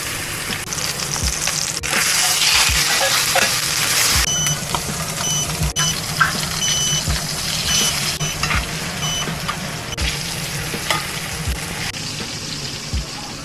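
Meat sears in a very hot pan with the kitchen fan running, giving a steady, dense sizzle and crackle with scattered pops and light clicks throughout, close and fairly loud, with no talking.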